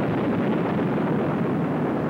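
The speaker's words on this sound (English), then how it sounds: "The noise is made by sticks like big firecrackers." Dynamite blasts breaking rock at a mine, a continuous heavy, thunder-like rumble that roars steadily and loudly throughout, with no voices over it.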